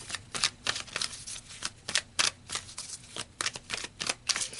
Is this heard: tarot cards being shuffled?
yes